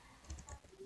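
Single press of a computer keyboard key, heard as one or two faint, soft clicks in a very short moment with no voices.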